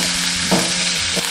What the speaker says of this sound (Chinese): 砂锅预热，倒入少许食用油，下入洋葱、大蒜、生姜，